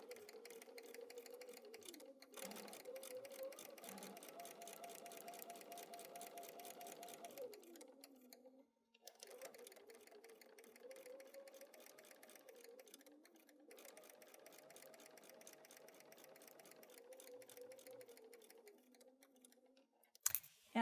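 Sewing machine stitching fabric quilt squares, a quiet steady mechanical whir with rapid ticking that stops briefly a few times before resuming.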